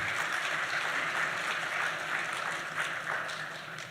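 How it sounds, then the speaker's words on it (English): An audience at a high-level regional convening on political financing in Africa applauds, a continuous wash of many hands clapping that holds steady and then begins to fade toward the end. "I think she deserves our applause."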